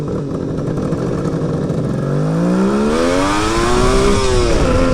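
A Suzuki GT550 two-stroke triple motorcycle engine revs upward and bogs down at high revs, its pitch rising and wavering unevenly, loud and close with no talking.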